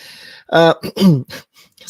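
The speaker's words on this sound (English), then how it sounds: "Clear my throat." A person clears their throat in a few rough, voiced bursts, close and fairly loud, with no other sound around it.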